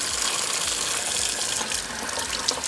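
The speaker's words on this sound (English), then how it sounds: "rinse it off with some cold water" Cold tap water runs steadily into a sink as a brined pork tenderloin is rinsed under it, a continuous close splashing rush with small shifts in texture and no talking.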